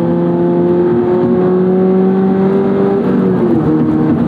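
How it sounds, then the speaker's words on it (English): A second-generation Subaru BRZ's artificial piped-in engine sound hums steadily at a low, even rev, a synthetic droning tone that holds throughout, close and fairly loud. "the fake piped-in engine noise, I really don't like"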